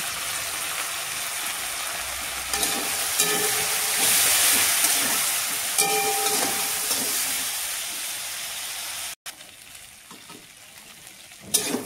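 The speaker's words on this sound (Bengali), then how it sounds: "হলুদ আর নুনের সাথে আলুটা ভালো করে ভাজা ভাজা হয়ে গেছে" Potatoes frying in a pan with salt and turmeric for a spinach-and-potato curry give a steady, close sizzle and crackle throughout, with occasional stirring scrapes and one brief dropout near the end.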